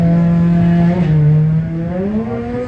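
A drag racing car launches at Santa Pod, its engine holding a steady, loud, droning pitch that dips briefly and then climbs as it pulls away.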